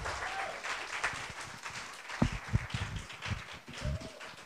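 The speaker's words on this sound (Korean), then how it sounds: "우리 나올 때 우리 뜨거운 환영의 박수 부탁드리겠습니다" A church congregation claps to welcome a visiting missionary speaker at a service, a moderate, somewhat uneven patter of hands with a few louder claps and thumps, fairly faint in a roomy space.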